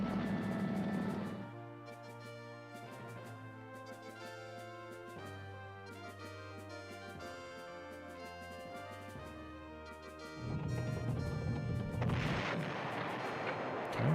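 Artillery fire in the PlayStation 1 strategy game Panzer General: heavy booming blasts at the start and end over sustained, droning game music, with no talking.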